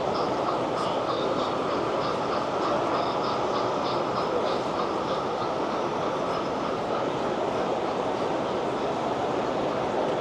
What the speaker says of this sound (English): Train's coming right around through here.